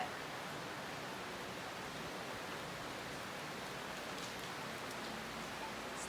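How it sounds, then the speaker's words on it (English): Heavy rain falls steadily in Tulum, a soft, even hiss of drops on surfaces that continues without a break. "This is our second day here and it's really raining."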